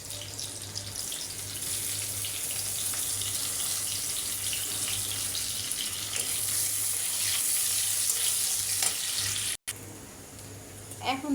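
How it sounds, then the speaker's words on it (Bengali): Onion, garlic and ginger fry in hot oil in a wok, a steady, bright hissing sizzle that stays continuous and close, with a low hum beneath and a brief break near the end. "এখন দিয়ে দেবো পেঁয়াজ, পেঁয়াজের সাথে রসুন, আদা"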